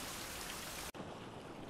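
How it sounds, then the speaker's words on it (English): Steady rain hisses loudly on surfaces outdoors as a dense, even patter, then briefly cuts off and resumes at a similar level, faint overall. "just after this rain has gone past us"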